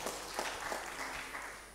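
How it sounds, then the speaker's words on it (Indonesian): Audience applause at a book launch event in Samarinda, a steady faint patter of many hands clapping without talk over it. "kita berikan tepuk tangan ini untuk Pak Saprudin Pernyata"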